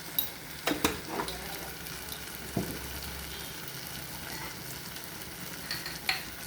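Spices for peas sundal sautéed and stirred in a pan, a quiet background sizzle broken by a few sharp metallic scrapes and taps of the spoon, no talking.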